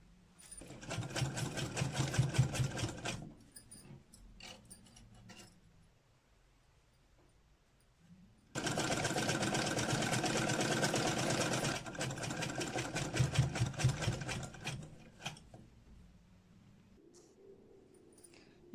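An electric sewing machine stitches along a folded seam of a baby frock, running in two long steady whirring bursts separated by a quiet pause, close up and alone without any voices.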